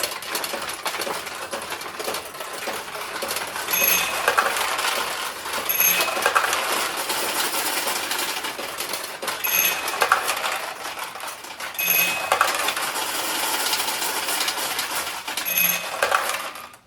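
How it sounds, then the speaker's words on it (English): A restored 1971 Nishijin Model A pachinko bowling pin machine runs with a steady mechanical whir and rattle, punctuated by regular bright metallic chimes every couple of seconds, alone without talk. "that's the 1971 Nishijin Model A bowling pin machine"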